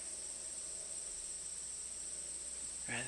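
Cicadas outdoors keep up a steady, high, shimmering drone throughout, with a brief louder rise near the end.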